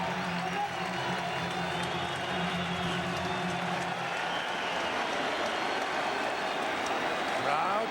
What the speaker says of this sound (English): Crowd getting into it again.